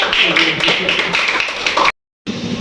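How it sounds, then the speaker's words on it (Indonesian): Classroom applause for a student who answered a question, a steady run of many hands clapping for about two seconds before a brief silence, then faint room noise. "mari kita berikan aplaus kepada temannya yang telah berani menjawab"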